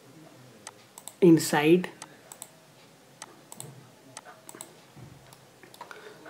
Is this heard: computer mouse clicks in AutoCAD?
yes